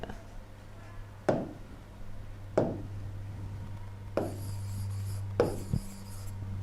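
A teacher writes on a classroom board during a chemistry lesson, with soft scratchy strokes broken by a few distinct taps as the marker meets the surface, over a low steady hum and without talk.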